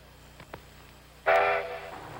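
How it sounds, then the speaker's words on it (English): A 100-ton railroad car sets off, a sudden loud burst of rolling, roaring rail noise kicking in partway through after a few faint knocks, holding steady to the end. "That 100-ton railroad car is about to go on a trip."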